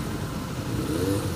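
A Royal Enfield Himalayan adventure motorcycle engine runs with a steady, close low rumble that swells slightly toward the end.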